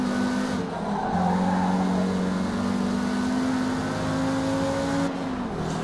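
Race car lapping a track in Forza Motorsport: a steady, loud engine drone with shifting pitch and a long tire squeal through a turn, close and continuous with no talk.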